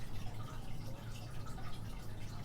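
Water is poured into a potted split leaf philodendron, a faint, soft trickling and splashing heard alone.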